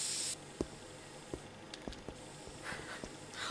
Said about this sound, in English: the sound effect of the spray can is giving me so much nostalgia